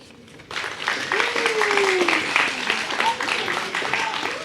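Steady applause and scattered cheering from a crowd, sustained throughout after a brief quiet start, with a voice calling out over it.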